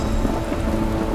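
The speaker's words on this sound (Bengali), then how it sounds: "যা বাজ পড়ছে" A thunderstorm with heavy rain pours down steadily and loudly around a car parked in an open spot, with a dense, constant roar of rainfall and low rumbling throughout.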